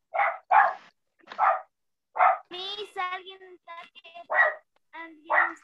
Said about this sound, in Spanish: Con su perro está ladrando.